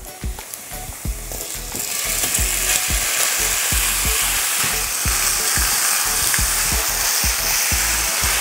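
Beef sizzling loudly as it sears in a pan with golden-browned onion and garlic, a steady frying hiss broken by repeated scraping and stirring knocks throughout.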